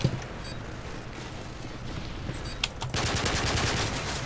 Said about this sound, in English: I shot him in the fucking head!